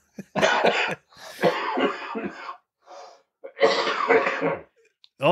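A person coughs in rough, repeated bursts with throat clearing and gasping breaths between, close and loud, like a fit.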